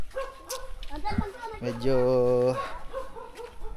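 A dog barks and whimpers in a residential area while children play and people talk.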